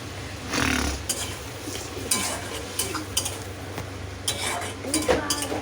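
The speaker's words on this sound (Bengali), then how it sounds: "এটা দিয়ে একটু আমি খানিকক্ষণ নাড়াবো।" Tomato, ginger and green chili paste being stirred in a pan for an aloo begun fish curry, with a spoon scraping and clinking against the metal in irregular strokes over a faint sizzle.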